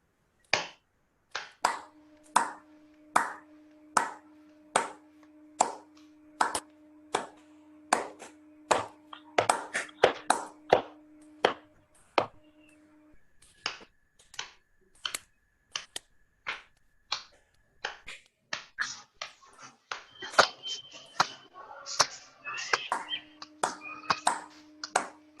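Dozens of sharp hand claps repeat at a quick, steady pace, growing denser and overlapping toward the end, with faint tones humming underneath.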